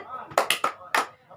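A small group of women in a prenatal health class do a patterned spirit clap, a handful of distinct, loud claps in an uneven rhythm over a quiet room.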